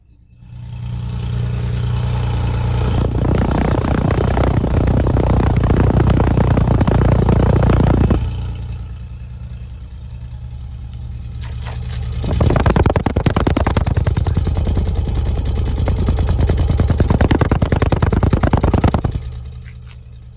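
A 1990 Nissan 300ZX 2+2 with a 5-speed manual rumbles through its dual exhaust with four exits, idling loud and close, then revving hard in two long sustained bursts separated by a calmer idle.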